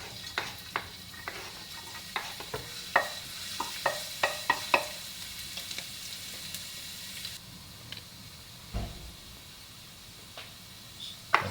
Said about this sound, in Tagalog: Magisa na tayo ng bawang.